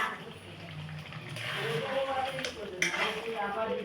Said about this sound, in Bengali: সকালে চিকেন রান্না হচ্ছে